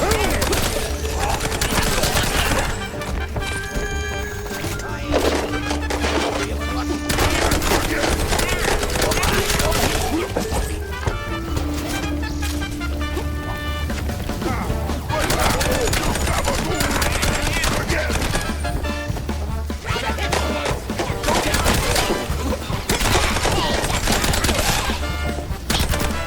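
Gunfire in the video game Mouse P.I. For Hire, dense rapid shots and bursts exchanged continuously at close range, loud, over game music, with no talking.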